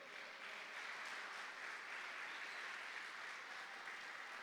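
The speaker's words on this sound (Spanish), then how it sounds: "¿Puede darle palmas al Señor?" A church congregation clapping hands together at a women's service, a dense steady applause-like patter lasting throughout, moderately distant and without voices.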